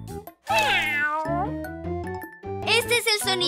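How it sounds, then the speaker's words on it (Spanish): Cartoon cat meows in a children's song, loud and up close over bright music, with a second meow-like call near the end and a child-like voice joining in. "¡Este es el sonido de un gato!"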